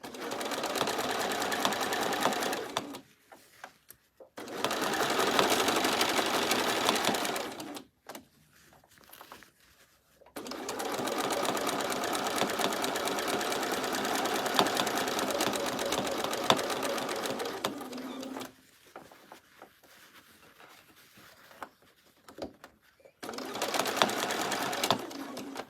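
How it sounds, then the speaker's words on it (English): A sewing machine stitches fabric for a unicorn-pattern bag in loud, close bursts of steady whirring, several seconds each, separated by short pauses while the fabric is shifted. "for that bit of sewing"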